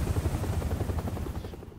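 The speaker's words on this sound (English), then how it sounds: "Watch the helicopter carefully here" Helicopter in the horror video game Resident Evil 7, a steady low rotor chop with rapid thudding pulses, fairly loud and continuous before fading out near the end.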